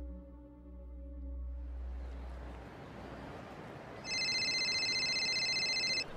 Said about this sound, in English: Thought I had my cell phone switched off.